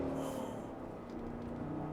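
A 2025 Cadillac Escalade's 6.2-liter V8 gives a low, steady engine growl from inside the cabin during on-road driving, a continuous rumble with no talk over it.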